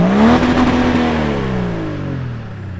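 A Range Rover Classic fitted with an M57 diesel engine pulls away, its engine note rising and then settling into a steady drone as it drives off, heard loudly from inside the vehicle, with no talking.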